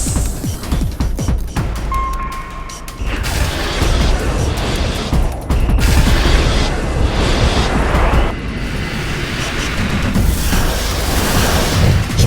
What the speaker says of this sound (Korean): 어뢰 발사.